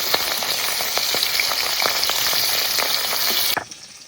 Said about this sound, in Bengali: মাছ একটু হালকা করে ভেজে নিয়েছি